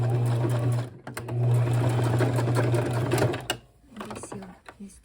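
A home sewing machine stitches a leather bag in fast, steady bursts of mechanical whirring with brief pauses between runs, close and clear, while a person talks over it.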